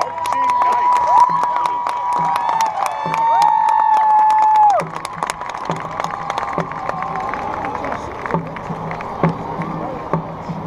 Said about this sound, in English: Once again, a big round of applause for the Cabell Midland.